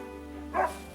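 A single short dog bark sounds in the video game Another Code: Recollection, one clear yip rising over a steady low musical backdrop.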